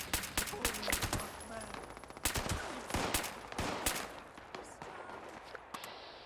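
Gunfire in the video game Fallout 76: rapid, repeated shots and bursts from several weapons crackle steadily in a busy firefight, loud and close, with a voice talking over the shooting at times.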